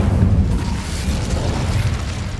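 Incendio fire spell blast in the Hogwarts Legacy video game, a loud, dense roaring burst of flame with booming low rumble, sustained and steady for a couple of seconds with no talking.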